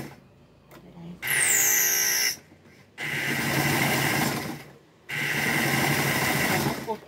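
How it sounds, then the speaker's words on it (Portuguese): A small, old domestic sewing machine stitching fabric scraps for a rag rug, running in three loud, sustained bursts of steady motor whir with brief pauses between them. "Vamos lá costurar."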